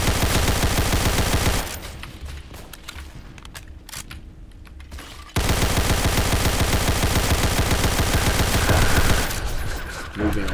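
Rapid, continuous bursts of gunfire in the Roblox war game Entrenched, loud and dense, dropping away briefly into a quieter stretch before the firing resumes just as heavily.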